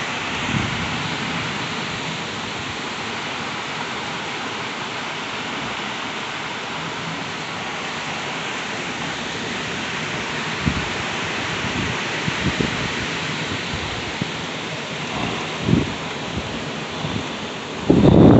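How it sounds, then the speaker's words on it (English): Steady storm wind and rain roar outdoors during a thunderstorm, a continuous hiss with gusty buffeting on the microphone and a few close knocks and thumps near the end. "I don't want to miss any of the wind noise and all that"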